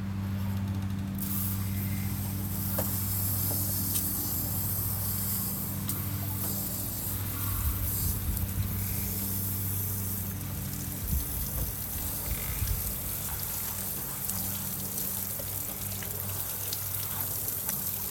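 Water draining out of the heater tank of a Passport 2670BH travel trailer during a flush, a continuous rushing, splashing flow with a steady low hum underneath and occasional gurgling surges.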